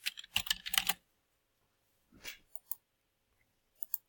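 A computer keyboard clicks in a quick run of keystrokes, then a pause, a short burst and a few isolated taps, close and fairly quiet.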